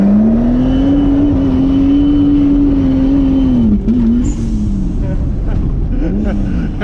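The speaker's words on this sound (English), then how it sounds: "Might have hit rev limiter there." A turbocharged AWD Honda Civic with an H2B engine and big wastegate revs hard and steady near the limiter, then the note drops and climbs again, loud and close, with people talking over it.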